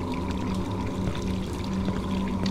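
Water running steadily in the video game Cry of Fear, a continuous pouring rush with a low droning hum underneath, constant and unbroken, with no talking.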